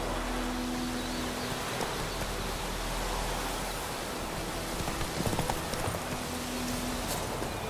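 Hooves of Roach, a horse in The Witcher 3 video game, clip-clop in a steady rhythm throughout, close and fairly loud over a constant rain-like hiss.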